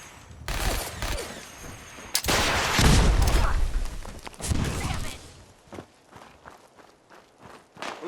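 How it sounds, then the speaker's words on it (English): Gunfire in the PC video game Fallout 4 comes as loud, irregular bursts of shots and heavy impacts that rise and fall, interspersed with footsteps and quieter gaps. "Taking fire."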